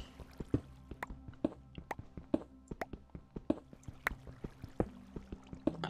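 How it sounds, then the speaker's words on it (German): Underground water drips in a Minecraft cave, a string of soft, irregular plinks and drops repeating every half second or so over a quiet backdrop with faint sustained tones. "Ich höre Wasser. Das ist unterirdisch."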